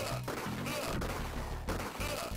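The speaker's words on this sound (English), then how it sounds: "especially the retort of your Walther PPK" Walther PPK gunshots sound in the Sega Genesis video game 007 The Duel as crunchy, digitized retorts, several rapid shots mixed into loud in-game music and effects.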